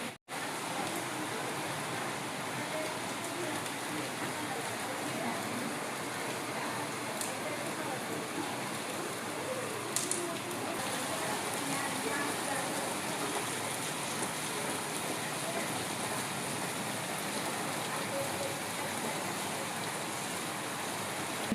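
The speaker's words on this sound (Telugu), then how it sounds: "వర్షం అయితే చూడండి ఫుల్ పడుతుంది." Heavy rain pours steadily outdoors in a residential area at evening, a dense continuous hiss of falling water at even loudness throughout, with no voices.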